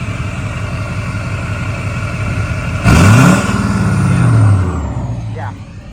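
An LBZ Duramax diesel dually truck, its exhaust pipe rusty, gets a short throttle tap: a steady idle swells into a loud rev lasting about two seconds, then settles back down, with people talking nearby.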